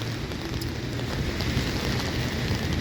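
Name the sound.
heavy rain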